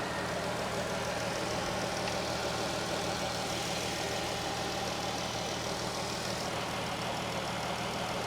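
A 3.6 liter car engine idles steadily at close range under the open hood, a continuous low rumble with no talking.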